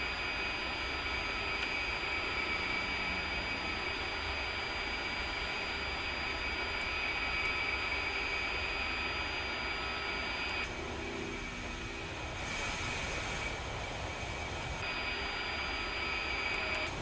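Steady engine drone of an aircraft coming in to land in a flight simulator game, continuous and fairly quiet throughout with a slight brightening of hiss partway through, no voices.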